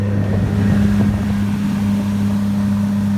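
A motorboat engine runs steadily at about half throttle, a loud, constant low droning hum with some wind buffeting, close to the microphone and without talk.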